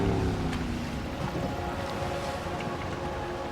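A boat gliding in with its engine cut in the game Max Payne 3, a steady wash of water and wind around the hull with a faint low rumble, no voices.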